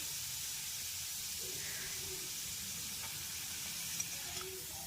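Paneer frying in a pan makes a soft continuous sizzle and hiss, fairly faint and steady with a few small pops, and no speech.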